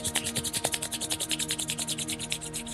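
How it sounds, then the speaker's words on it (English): Palms rubbed briskly together during a home yoga exercise, a steady rhythmic swishing friction of about ten strokes per second, close and clear with no talking. "Rub your palm together"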